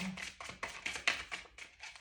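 Quiet, rhythmic tapping and flicking of thick, stiff oracle cards being shuffled by hand, several soft riffles in quick succession.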